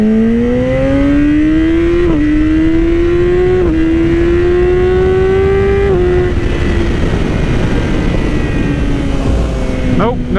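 A 2017 Yamaha R6 motorcycle screams along a road at high revs, its loud engine whine climbing steadily through several gears with brief dips at each shift, close and continuous under constant wind rush.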